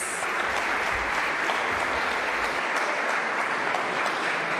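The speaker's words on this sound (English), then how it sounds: "a big round of applause" At a Freedom of Speech Award ceremony, a large audience gives the Stegreif Orchestra a big round of applause, a thick, even roar of clapping that holds steady without pause.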